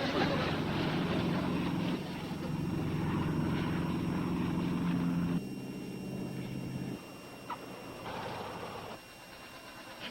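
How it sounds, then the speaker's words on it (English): A small airplane descends to land, its engine drone steady and moderately distant, thinning out and easing lower over about ten seconds. "Look, the plane is coming down."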